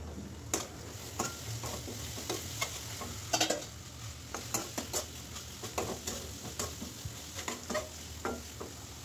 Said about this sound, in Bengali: মশলাটা আমি আরও একটু কষাবো।